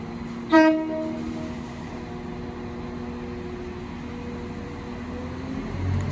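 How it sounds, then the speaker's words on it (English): A Transport for Wales train departs for Manchester Airport, sounding one short, loud horn blast at the start before a low, steady engine rumble carries on as it pulls away. "Departing now is the 14:35 Transport for Wales service"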